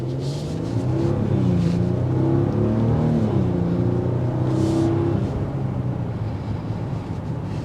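A 2023 Maserati Levante GT in sport mode accelerates with a steady, loud engine roar and rising and falling gear-change tones, heard from inside with a wind-like rush throughout.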